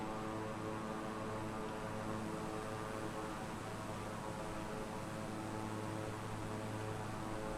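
An electric plane in a flight simulator hums along in steady level flight, giving a constant droning whir over a broad airy rush that holds even and unbroken throughout.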